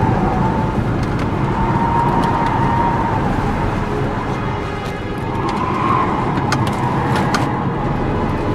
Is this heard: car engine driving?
yes